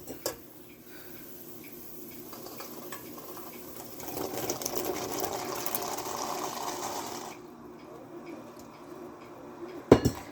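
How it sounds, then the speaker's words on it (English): Cranberries go into hard-boiling syrup for cranberry sauce: a low bubbling simmer swells into a louder churning boil, then fades, ending with a sharp clink of a utensil against the pot. "you want to go ahead and add in your cranberries"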